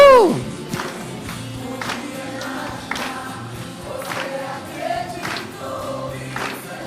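Church congregation clapping along in a regular beat during a worship service, the claps sitting over sustained music and crowd sound at moderate volume.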